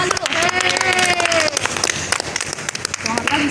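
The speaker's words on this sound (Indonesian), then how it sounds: "Tepuk tangan dulu." Audience at an outdoor childbirth-preparation health talk clapping together, a dense, steady patter of hands that fills the moment, with voices mixed in and light drizzle conditions.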